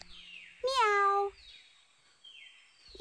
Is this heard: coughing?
no